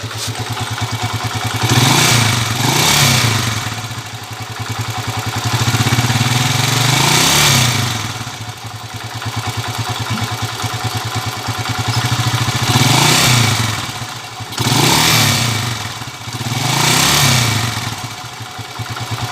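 A Suzuki Shooter 115fi motorcycle engine runs nearby with a knocking fault, idling with a steady rapid clatter and revving up loudly several times before settling back down.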